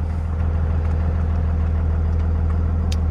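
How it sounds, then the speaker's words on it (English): A 2001 Dodge Ram 3500 dually 4WD pickup with a 5.9L Cummins diesel, 163K miles and a check engine light, idles with a steady low-pitched rumble and drone, even and unbroken throughout. "Cranks right up."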